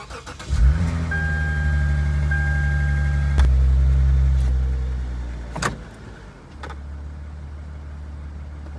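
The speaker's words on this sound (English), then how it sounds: "I'm gonna turn on the car." A Lexus car engine cranks and catches, settling into a loud idle with a rumble, then dips and continues running steadily nearby.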